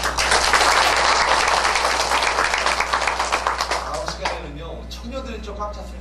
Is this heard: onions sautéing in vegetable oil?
no